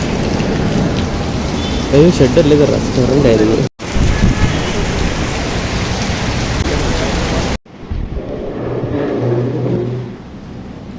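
Heavy rain pours down with rolling thunder while people shelter under a roof on a trip to Guruvayur. The downpour is loud and constant, with a person talking over it and a brief cut partway through.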